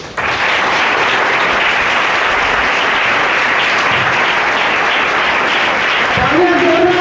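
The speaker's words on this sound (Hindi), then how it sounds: "तो एक बार जोरदार तालियां होनी चाहिए हमारे सभी न्यू एसोसिएट्स के लिए।" Loud, dense applause fills a training-event hall as the crowd welcomes new associates, holding steady throughout while a voice speaks briefly near the end.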